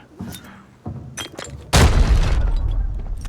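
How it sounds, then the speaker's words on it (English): A grenade blast in the shooter game Arena Breakout erupts as a sudden loud boom with a long rumbling, debris-filled tail, preceded by scattered lighter clicks and thuds. "Throwing a nade through those small slits, this is art."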